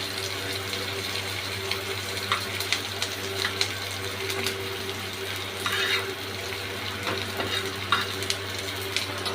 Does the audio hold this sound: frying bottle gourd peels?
yes